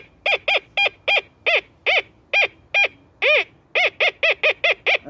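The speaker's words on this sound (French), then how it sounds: "un bruit de canard caractéristique à la machine" A Gold Hunter FS2 metal detector gives its characteristic duck-like signal: a run of about sixteen short, nasal quacking beeps in an uneven rhythm, close and clear against a quiet background.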